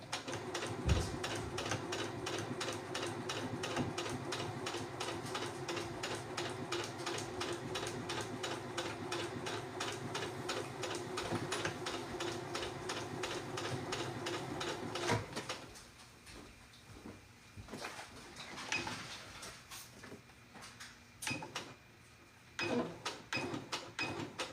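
A sewing machine back-stitches fabric for an upcycled car trash bag, running in a fast, steady mechanical rattle for about fifteen seconds, then going quiet apart from scattered handling clicks and knocks.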